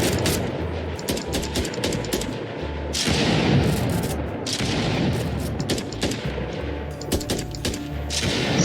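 Gunfire from bots and the player in an Unreal Engine 4 third-person shooter game, with dense rapid volleys of shots and booms that continue almost without pause.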